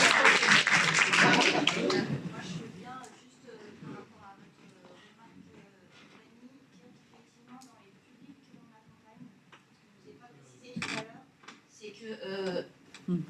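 Applause from an audience at a business round table on recruitment, a burst of clapping in the first two seconds that fades under talk, with people speaking afterward and a brief return of clapping near the end.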